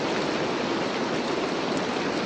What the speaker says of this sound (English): We cut back to the sound of rain and Joe made it out the door.